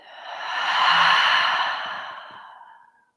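A single long, deep exhale during a breathing exercise, swelling to full breath and then tapering off slowly, close and alone with no talk.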